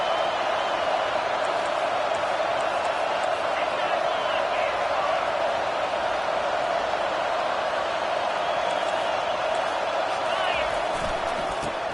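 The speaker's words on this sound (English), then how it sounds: "Now the crowd responding in the red zone, trying to help this defense." A stadium crowd in the Madden 25 football video game roars steadily as the defense plays in the red zone, a dense, constant wall of cheering and noise that holds for the full twelve seconds.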